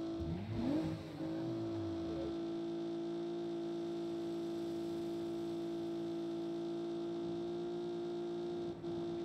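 Car engine in Saints Row on Xbox Series S, rising in a sweeping rev then holding a steady, loud high drone at the limit as if stuck with no further gear, continuous to the end.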